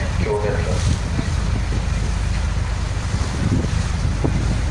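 A tour boat cruising on the Bosphorus in Istanbul, its engine droning low and steady beneath wind buffeting the microphone and the wash of water, with brief faint tones near the start.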